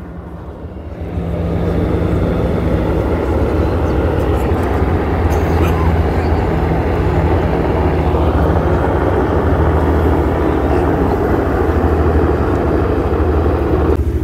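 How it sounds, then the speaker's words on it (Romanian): Military helicopters fly overhead above the Hudson River near Manhattan, heard as a steady, loud rotor and engine drone that fills the recording from start to finish without any clear change in level. "Elicoptere militare."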